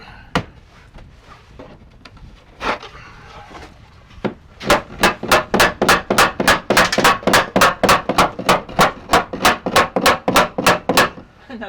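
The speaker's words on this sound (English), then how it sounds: "Put it in lower and hammer it." Rapid, steady hammer blows strike wood in a long run of about twenty sharp, evenly spaced knocks, preceded by a few scattered thuds.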